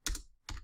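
Two quick clicks of keys on a computer keyboard, close and crisp, with a short pause between them.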